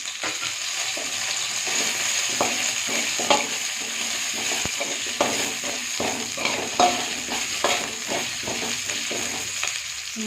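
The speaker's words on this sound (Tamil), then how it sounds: "அடுத்தது கொத்தமல்லி, சீரகம், வரமிளகா, மிளகு, கருவேப்பிலை இதையும் கொட்டி எல்லாம் வணக்கிக்கலாம்." Onion sautés in a pan with coriander, cumin, dried chili, pepper and curry leaves for peanut chutney, giving a steady close sizzle with frequent scraping stirs and light clicks of the spatula throughout, no talk.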